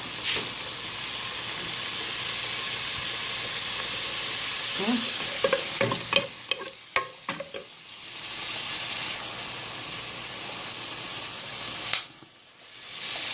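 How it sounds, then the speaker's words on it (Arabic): Onions frying in oil in a pot, sizzling steadily up close while a utensil stirs and clatters through them for several seconds before the hiss fades and dips near the end. "ندير له بصل خليه يتقلى"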